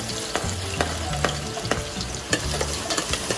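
Garlic and ginger frying and splattering in hot oil for tinola, a dense close sizzle broken by repeated sharp pops and stirring clatter, loud and continuous with no talking.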